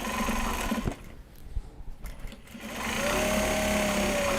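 A sewing machine stitching together patches of Japanese fabric, a fast steady whir that runs, pauses for a moment of quiet handling noise, then starts up again, close and clear.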